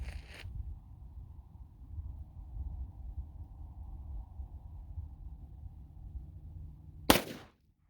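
A Glock 33 pistol fires .357 SIG Ranger T-series rounds: one sharp, loud report at the very start and another near the end, with a low, quiet rumble in between.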